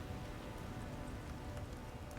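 Soft, steady rain falling and pattering on surfaces, faint and distant, an even hiss with scattered drop ticks and no voices.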